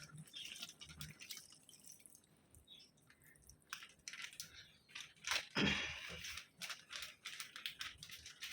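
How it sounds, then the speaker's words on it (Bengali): Milk poured into a pot of Bengali sukto cooking with soaked poppy seed and mustard paste; soft dripping and a brief splashing gush in the middle, faint against a quiet kitchen background. "এবারে দেবো দুধ"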